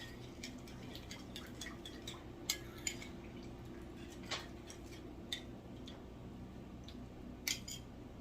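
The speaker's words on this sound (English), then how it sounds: "Mix this up real good." Light, faint clinks and taps of a utensil against a bowl while a mixture is stirred in a home kitchen, irregular soft ticks over a low steady background hum.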